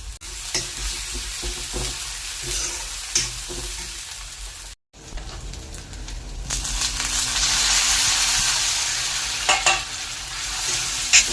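Grated onion, green chili and a little ginger-garlic paste fry in a pan, a steady close sizzle broken by stirring scrapes and clicks, swelling louder midway with no one speaking.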